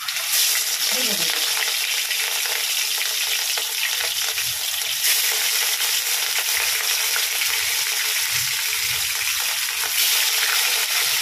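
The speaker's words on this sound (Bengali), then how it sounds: "মাছগুলো আরেকটু এপিট ওপিট ভালো করে ভেজে নিচ্ছি।" Katla fish pieces coated in salt and turmeric fry in hot oil, giving a steady loud sizzle throughout, with a few soft clinks and stirring scrapes from turning the fish.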